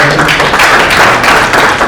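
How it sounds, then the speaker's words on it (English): Audience at a city council candidate forum breaks into loud, dense applause, many hands clapping close and steady for the whole stretch. "Let's give Alice a round of applause, please."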